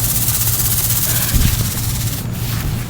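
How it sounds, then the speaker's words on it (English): A small remote-control drone flies outdoors near a tree, its steady high buzzing whine droning continuously under a low rumble, with a brief louder swell midway. "Hey guys, the drone here"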